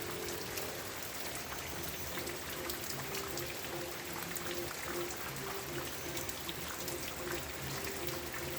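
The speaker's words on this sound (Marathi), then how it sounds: "आज तुम्हाला दाखवणार आहे मी आमच्या इकडचं पावसाचं वातावरण बघा" Continuous monsoon rain falls steadily over a village, a dense even patter with a faint hum underneath, no voices.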